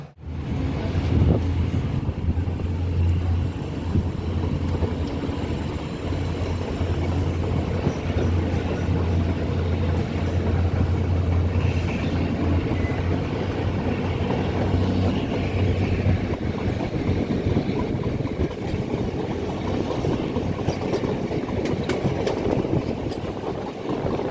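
A Miraj–Kolhapur DEMU train pulls away from Valivade railway station, its diesel engine rumbling loudly and steadily under rushing wind and rattling carriages.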